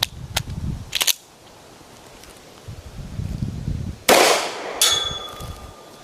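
Several sharp shots from a Derya DY9 Island pistol ring out, close and loud, with clanging and ringing after the last two and quiet stretches between them.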